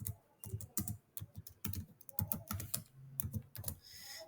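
Python code typed on a computer keyboard: close, crisp key clicks in uneven quick runs with short pauses, heard alone without any talking.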